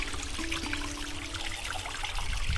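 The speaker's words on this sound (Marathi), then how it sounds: "त्या कुंडा बसून हा खालून जो पाण्याचा रस्ता असा येतोय बघा" Water trickles steadily from the outlet channel beneath a temple tank at Ranjeshwar Mandir, flowing out toward rice fields, a continuous close splashing stream with no one speaking.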